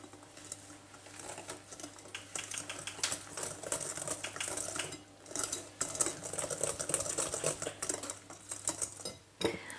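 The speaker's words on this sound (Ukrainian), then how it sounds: "Знов все перемішую" Steady, rapid clicking and tapping of a whisk or fork beating kefir and semolina batter in a bowl, continuous and close, with a brief pause midway.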